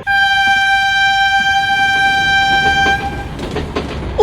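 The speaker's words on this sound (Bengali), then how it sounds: "ও পাচুদা, ট্রেন ছেড়ে দিচ্ছে তো" The Ghanti Pahar Express pulls out of platform 1 with a long, loud, steady horn blast lasting about three seconds, then gives way to rumbling, clattering train noise.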